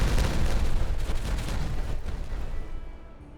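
Dynamite blasting terrain in the colony-building game Timberborn: a loud, rumbling detonation with crackling debris that rolls on for about two seconds before fading away, with no talk over it.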